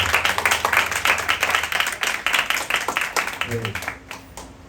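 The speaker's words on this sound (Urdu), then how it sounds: "اپنے لیے زوردار تالیاں بجائیے" A congregation at an Ash Wednesday church sermon breaks into loud, sustained applause and clapping that fades out after about four seconds.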